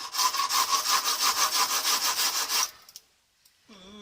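Steady rhythmic rasping strokes as the end of a ferro rod fire steel is scratched and gouged, loud and close, about a dozen even back-and-forth scrapes before stopping abruptly, followed by a faint tonal sound near the end.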